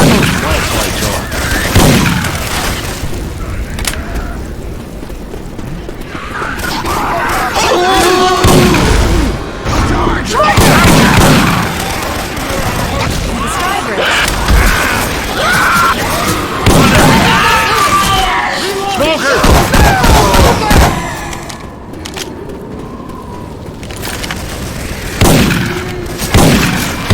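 Syphon Filter weapon sound effects used in Left 4 Dead 2 give steady, loud bursts of gunfire with booming thuds and impacts throughout, while voices talk and call out over the shooting.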